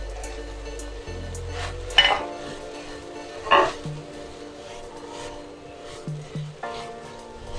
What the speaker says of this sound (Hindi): अब इसमें मैं ये वेजिटेबल्स डाल दूंगी।